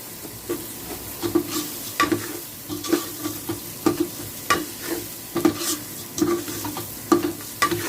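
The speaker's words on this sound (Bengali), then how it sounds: "আমি চালটাকে একটু নাড়াবো ভালো করে" Rice stirred and fried in a pan, rhythmic spoon strokes scraping through the grains about twice a second over a steady light sizzle, close up with no talking.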